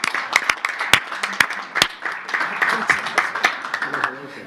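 Applause for Gerardo Fernández Noroña in the Mexican Chamber of Deputies starts as a few sharp, separate claps and swells into a brief, fuller round of crowd clapping.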